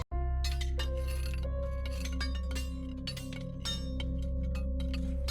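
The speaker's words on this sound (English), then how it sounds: "The chimes faded" Glassy chimes ring out in overlapping, sustained metallic tones with bright clinking strikes, steady and resonant throughout with no voice.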